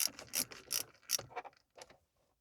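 A screwdriver works a screw out of the steering column on a Vauxhall (Opel) Corsa D, giving close, crisp clicking bursts in a quick uneven rhythm that thin out and stop.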